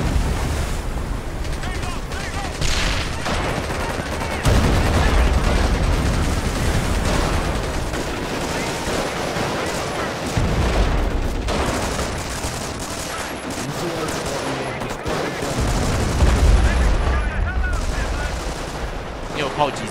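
Artillery fire in a video game: repeated heavy booming blasts and rumbling explosions over dense battle noise, loud and continuous, with voices talking over it.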